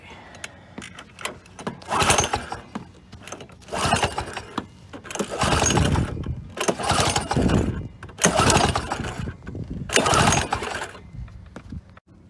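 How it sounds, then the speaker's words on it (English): A John Deere 12PB Deere Boy walk-behind mower engine, choked with fuel on, is pull-started cold: about seven loud, close rope pulls in a rough rhythm, each a rasping burst of cranking that fails to catch. "Got her choked. Fuel's on, and we're gonna pull away."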